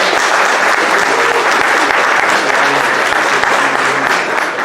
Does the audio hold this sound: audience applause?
yes